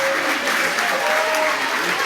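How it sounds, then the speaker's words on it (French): An audience claps for the parents at a children's judo club demonstration, a steady, fairly loud patter of applause with faint voices in the background. "On peut applaudir les parents qui sont restés."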